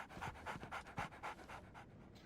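A dog pants in steady rhythmic breaths, about eight quick huffs in two seconds, close and moderately loud, in the video game Sherlock Holmes: The Awakened.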